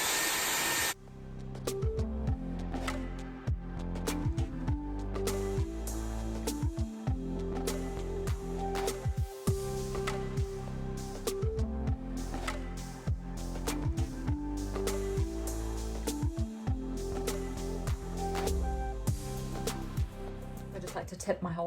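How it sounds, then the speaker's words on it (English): A Dyson Airwrap blasts air over long wet hair in a loud, steady whooshing roar that runs almost unbroken for the whole stretch, with brief cuts and someone talking over it. "I literally will just blast this all over my hair just to kind of take it from wet to damp"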